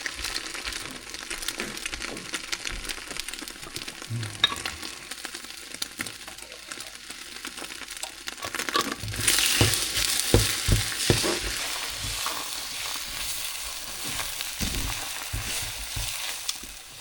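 Five scrambled eggs sizzle in a buttered frying pan. The sound starts as a low steady hiss, then turns loud and bright with scraping stirs as the cooking goes on. Nobody speaks.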